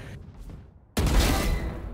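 Gunfire in a video game deathmatch: a loud burst of rapid shots starts abruptly midway and carries on, after a quieter stretch of low rumble.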